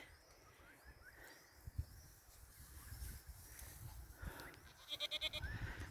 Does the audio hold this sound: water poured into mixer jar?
no